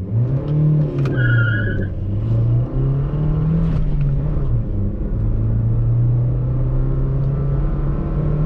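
A Maruti Suzuki Swift petrol engine revs hard through an acceleration run, a loud, steady drone rising and dipping with gear changes and a bouncing note near the rev limit, heard close with no talking.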